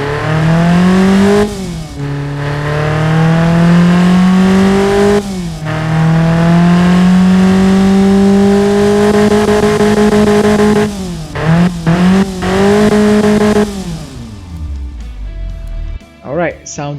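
Tuned Hyundai 1.4-litre inline-four in the Automation game revving up in repeated long pulls, pitch climbing steadily then dropping sharply at each shift or release, loud and close, with a few quick blips near the end before it cuts out.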